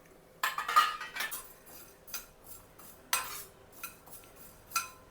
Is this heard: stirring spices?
yes